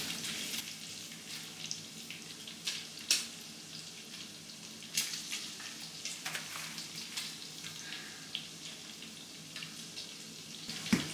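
Bacon frying in a pan while Texas chili is being prepared gives a soft, steady sizzle dotted with sharp little pops and crackles, fairly quiet and close.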